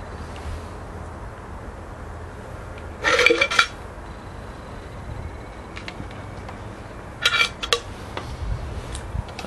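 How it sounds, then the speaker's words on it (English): A spoon scraping and clinking against the side of a metal 44 Pattern army mug, two short bursts of rattling clinks several seconds apart against a quiet room background. "you can get the spoon down the side of it."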